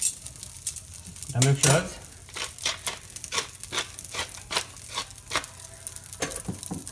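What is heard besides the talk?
lobster tail searing in a pan for paella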